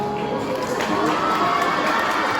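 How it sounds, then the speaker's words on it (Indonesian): Crowd at a Christmas celebration service cheers and claps, children's shouts mixed into a loud, steady wash of noise. "beri tepuk tangan"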